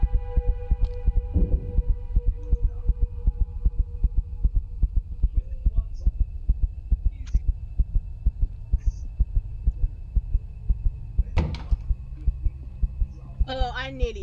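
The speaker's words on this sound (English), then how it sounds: "Oh, the heart beating." A steady, fast heartbeat thumps continuously in Ghost Exorcism Inc, low and throbbing over a droning hum, with brief scattered game sounds and a short voice near the end.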